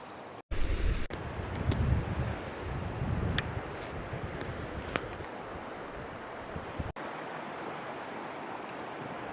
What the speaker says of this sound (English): It's getting pretty windy, so just brought out the gloves.